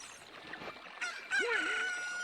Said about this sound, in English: A chicken hatched from the egg that you were incubating.